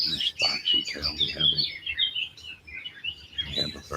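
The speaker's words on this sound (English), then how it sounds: "we have a bird in the bird bath" A small bird at a backyard bird bath chirps and tweets in quick high bursts, with a person speaking nearby.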